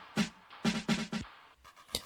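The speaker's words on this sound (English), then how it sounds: "On this part I have like this reverse clap." Reverse clap effect from a tech house track, a few short swelling bursts that snap off abruptly, spaced irregularly, with a faint softer tail near the end.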